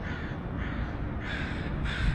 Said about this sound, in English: as the crows are going off